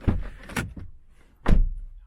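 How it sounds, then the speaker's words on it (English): A Seat Leon MK3 car door opens and then shuts, giving a few close clunks and latch sounds with a firm thud near the end. "open and close the door"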